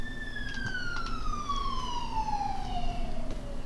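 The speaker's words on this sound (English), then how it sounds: "There's a siren going down our road." An emergency siren passes along a rural road, a single long wail sweeping slowly downward in pitch, heard at moderate distance over a low background hum.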